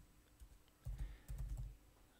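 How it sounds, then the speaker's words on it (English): Typing on a computer keyboard: a short, quiet cluster of soft key clicks in a quick irregular burst, close by, with no talking. "And now here I start typing"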